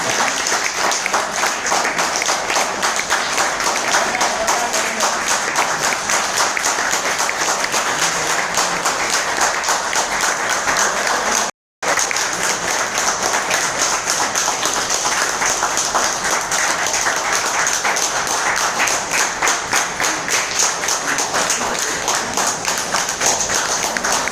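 Long, steady applause from an audience after a presentation at a business event at Prithvi Hotel. The dense clapping fills the room without letup, with one momentary break midway.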